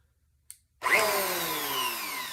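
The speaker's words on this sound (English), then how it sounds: "what a hand planer is it basically has a drum that rotates around" A Ryobi hand planer's cutter drum spins up after a short click, rising into a loud, steady high-pitched whine that holds close and alone as the motor winds down slightly.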